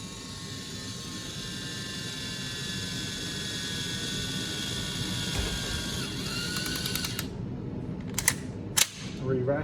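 Tokyo Marui MK46 next-generation electric airsoft gun firing a long continuous burst until the bolt stop engages on an empty magazine, steady buzzing motor and rapid cycling that then cuts out, followed by a few sharp mechanical clacks.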